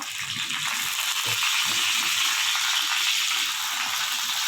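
Sesame seeds and curry leaves hit hot oil for a farali handvo, giving a steady, close hiss of frying with crackling pops throughout, no voices over it.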